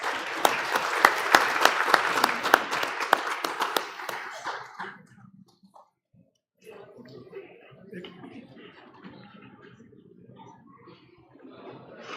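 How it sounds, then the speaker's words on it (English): Audience applause at a shield award ceremony during a Hussain Day commemoration in a courtyard: a loud burst of many hands clapping for several seconds that fades out, followed by quiet murmuring and talking. "So let's have a round of applause."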